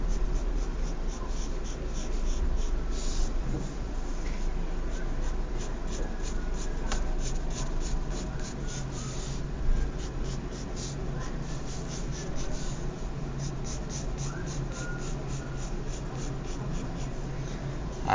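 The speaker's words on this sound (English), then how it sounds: "drawing my curve in then lightly first" A pencil sketches a light freehand curve on paper with a soft, continuous scratching that runs steadily, close and quiet, with faint pauses between strokes.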